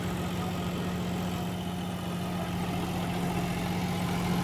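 A company-fitted John Deere 5210 tractor with only 31 hours of running hums steadily at a low, even idle, alone and unbroken.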